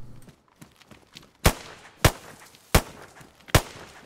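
Gunfire in DayZ: four sharp, loud shots spaced roughly half a second apart, punching out of an otherwise quiet background.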